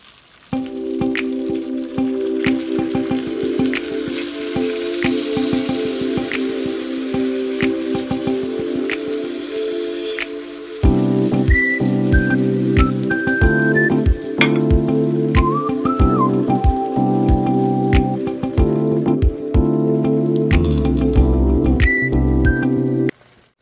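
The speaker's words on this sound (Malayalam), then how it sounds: "തേങ്ങാപ്പാൽ നമുക്ക് കുറച്ച് കുറച്ചായിട്ട് ചേർക്കാം." Coconut milk is added bit by bit to a pomfret fish curry in a hot pan, giving a steady sizzle and bubbling with brief stirring sounds under background music.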